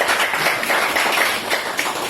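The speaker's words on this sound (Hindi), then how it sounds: "भाई तालियां तो बजाओ।" An audience at a yoga class claps together in a dense, steady round of applause. It is moderately loud and close, and no voices are heard over it.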